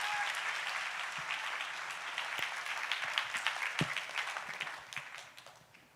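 Sustained applause from a church congregation welcoming a preacher to the pulpit at a youth prayer service, dense steady clapping throughout that thins and fades near the end.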